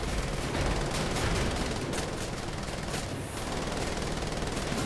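Dense, continuous gunfire from the video game Wolfenstein: The Old Blood roars throughout, a loud wall of rapid shots and blasts with no let-up.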